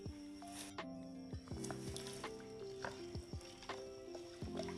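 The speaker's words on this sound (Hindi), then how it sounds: "उसके बाद हम इसे लकड़ी के चम्मच से चलाएंगे" Wooden spoon stirring a homemade acid-based toilet cleaner mixture in a container, giving soft wet swishes and light knocks in an irregular rhythm, close and quiet over background music.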